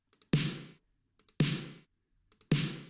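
Three bright, noisy snare drum sample hits ring out at regular intervals, each preceded by a couple of quiet clicky ghost taps.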